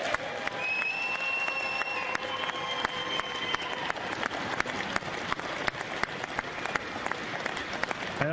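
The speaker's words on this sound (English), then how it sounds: "Please give her a big round of applause." A large audience gives a sustained round of applause for Marie Stelmach, a dense, steady crackle of many hands clapping alone for several seconds at moderate loudness.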